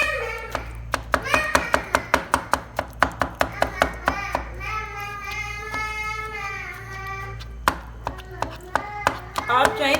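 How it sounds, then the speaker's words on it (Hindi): A knife finely chops vegetables on a board in quick, even taps that come in close, crisp bursts, with a voice talking over part of the chopping and a steady low hum underneath. "इसको हम बिल्कुल बारीक बारीक काट लेंगे।"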